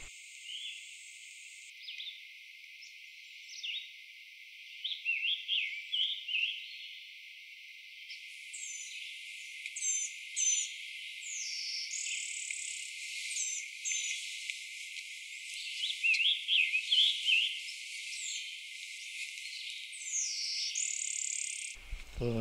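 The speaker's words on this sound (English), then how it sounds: "Scarlet Tanager singing in the distance with a yellow-throated vireo and a blue-winged warbler." Scarlet tanager singing in the distance alongside a closer blue-winged warbler and a yellow-throated vireo in woodland, with repeated high song phrases layered over a faint insect-like background, all without talk.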